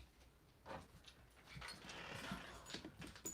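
An indoor dog whimpers and pants softly in irregular short bursts and breaths over a quiet room, fairly close, with no speech.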